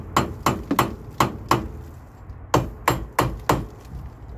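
Close, sharp hammer taps on the front brake hub of a Mazda MX5 Miata NC Mk3 during disc and shield work, struck in two bursts of about five evenly spaced blows with a short pause between.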